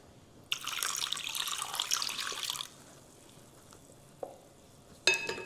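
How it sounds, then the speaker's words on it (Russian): Warm water, around 38–40 degrees, poured into a large bowl holding sourdough starter for bread dough: a steady, close splashing pour of about two seconds, followed by quiet pauses and a couple of brief knocks, with no talking. "Добавляем воды."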